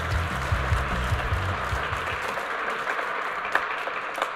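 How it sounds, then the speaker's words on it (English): An awards ceremony audience claps in warm applause, strong at first then thinning into scattered claps and murmur as it fades, heard from within the crowd. "Let's give her a big round of applause"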